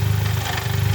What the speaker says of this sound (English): So I'm activating clutch 2. That's when it spins